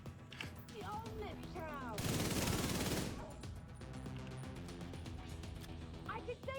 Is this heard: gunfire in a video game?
yes